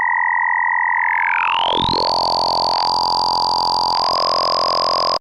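A frequency-modulated wavetable synth tone in the GrainTable Max for Live device holds steady and loud, its pitches bending and splitting apart as modulation sweeps in before settling into a bright, buzzing chord.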